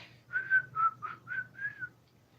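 A person whistles a simple tune of about six clear, sustained notes in an even rhythm, moderately quiet and alone, with no talking.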